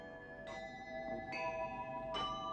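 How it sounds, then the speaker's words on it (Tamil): A temple bell strikes three times at a slow, steady pace, each clear metallic tone lingering and overlapping the next, heard from a moderate distance. "அதோப்பா கோயில் மணி ஓசை கேட்கிறதா?"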